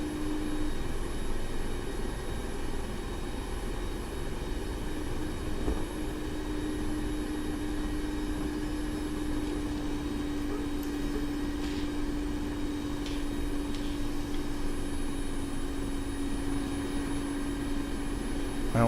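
Steady droning engine noise from an aircraft in the DCS flight simulator game, a continuous even whine and rumble holding through the landing approach, with no talking.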